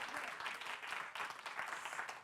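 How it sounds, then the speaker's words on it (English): Church congregation applauding the choir at a Sunday celebration service, a steady wash of many hands clapping at moderate distance, continuous and fairly soft with no voices standing out. "Can we give the choir another round of applause?"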